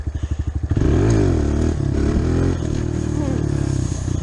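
A motorcycle engine chugs at idle, then surges to a loud, sustained rev as the clutch slips out, easing slightly and droning on close up.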